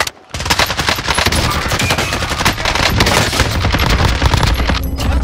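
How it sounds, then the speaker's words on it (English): Dense, loud automatic gunfire from the Call of Duty Warzone shooter game, a continuous rapid rattle of overlapping shots after a brief quiet start. "I'm taking fire!"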